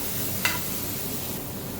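Cabbage and onion frying in a pan, a soft steady sizzle with a brief stirring scrape near the start, close and fairly quiet.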